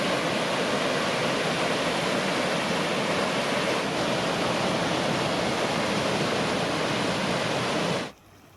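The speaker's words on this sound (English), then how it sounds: "there's a ton of small little cascades on the way" Rushing water from small cascades on the Tarawera River in New Zealand, a steady, loud, full roar that holds unbroken and close before cutting off abruptly near the end, with no voices.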